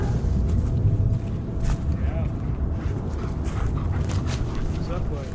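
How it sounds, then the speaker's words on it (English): A dog whimpers softly amid a steady outdoor rumble, thin whines rising now and then, with a person's voice nearby. "You're a big dog."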